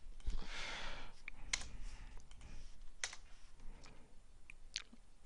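Someone types a command on a computer keyboard, a scattered run of quick, close clicks and taps with a few louder key presses, quiet and without talk.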